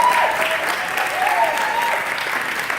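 Sustained applause from an audience at a reception for Porgy & Bess and the Black Migration, steady and dense throughout, with a few faint cheers or whoops rising above it.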